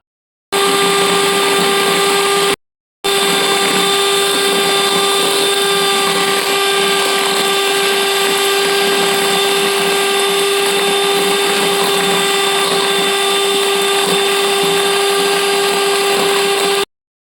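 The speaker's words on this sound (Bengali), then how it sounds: "এগ হোয়াইটটা বিট করছি, তার সাথে আমি 1 কাপ চিনি অ্যাড করে দিই।" Electric hand mixer whipping egg whites with a cup of sugar for butterscotch cake: a loud, steady motor whine with a strong tonal hum, briefly cut off once early, then running on without a break.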